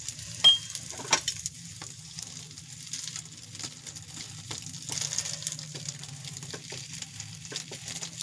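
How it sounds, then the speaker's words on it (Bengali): Paratha frying in oil in a pan, a soft steady sizzle with scattered light pops and scraping clicks as it is pressed, close and fairly quiet with no talking. "দেখুন একটু চেপে ভাজছি"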